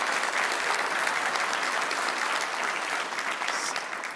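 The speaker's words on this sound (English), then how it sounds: "So another round of applause for EP." Dense, steady applause from a conference audience fills the room, many hands clapping at once and holding level before easing slightly toward the end.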